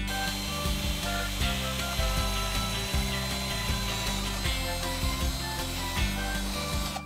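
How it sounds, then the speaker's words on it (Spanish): A power drill with a wood bit whirs continuously while boring into wood, its motor hum steady with a rough, grinding texture throughout. "Cogemos el taladro, broca para madera y al asunto."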